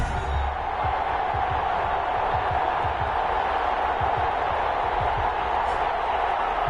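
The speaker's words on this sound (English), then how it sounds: "This crowd is ready" Stadium crowd noise in a football video game before a Seattle Seahawks versus Toronto Mounties matchup, a steady broad roar filling the whole stretch with faint low thumps beneath, and a commentator's voice talking over it.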